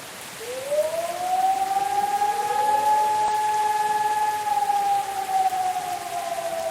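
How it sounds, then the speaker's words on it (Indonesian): A wailing warning siren in a virtual reality flood simulator game rises and holds a steady tone over a soft hissing background, then eases slightly toward the end. "Kita harus mengingat apa yang harus kita lakukan saat tanda sirine itu dibunyikan"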